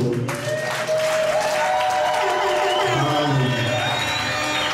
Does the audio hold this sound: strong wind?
no